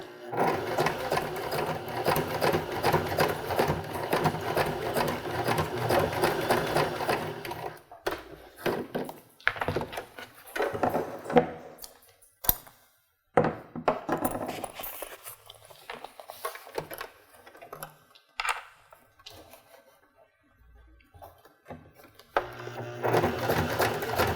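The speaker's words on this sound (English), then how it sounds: "take it over to your sewing machine and stitch it in place with about 1/4 inch." A sewing machine runs in a steady, fast stitching whir for several seconds while stitching a cork zippered pouch, then stops and restarts in shorter bursts with pauses and small handling noises.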